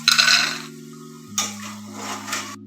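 Fried kabadi snacks being lifted out of a pan: a bright metallic scrape and clatter of a utensil, a pause with a steady low hum underneath, then a second longer scraping jostle, close and fairly loud.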